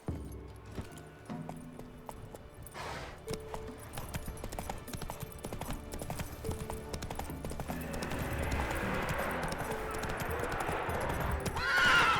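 Roach the horse in The Witcher 3: Wild Hunt, with a clear neigh and rhythmic clip-clop hoofbeats trotting along under soft game music, the hooves growing busier toward the end.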